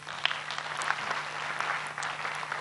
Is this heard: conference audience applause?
yes